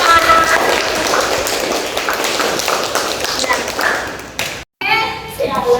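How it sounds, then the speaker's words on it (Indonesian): A classroom of children claps for a presenting student group, a dense, close run of clapping mixed with children's voices, ending in a brief silence before the chatter resumes. "Yang kasih aplaus buat kelompok 4"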